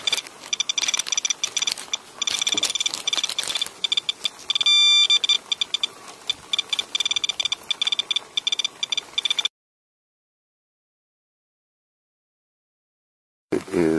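A radiation detector beeps rapidly and irregularly while testing rainwater from a downspout during rain, with dense clicking beeps for about nine seconds, then silence, then beeping resumes briefly at the end.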